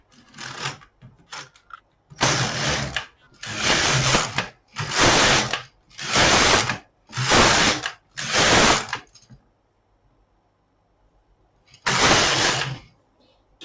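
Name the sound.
knitting machine carriage knitting rows of waste yarn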